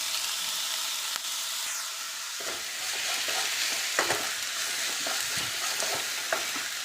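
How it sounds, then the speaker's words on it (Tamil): Tomatoes with ginger garlic paste sizzle in a pan, a soft steady hiss broken by repeated scraping and clacking stirs of a spatula that grow busier in the second half. "தக்காளி நல்லா வணக்கி விட்டுக்கலாம் ஃப்ரெண்ட்ஸ்."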